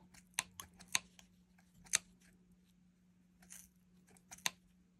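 Sharp scissors snip through several layers of crochet yarn while a small bunny costume for a cat or dog is being made, giving a few crisp, close cuts at irregular intervals with no talking.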